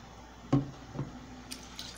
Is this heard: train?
no